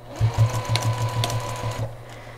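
A sewing machine stitches quilt binding in a quick run of even, rhythmic thumps with a steady motor whine, close and clear with no talking.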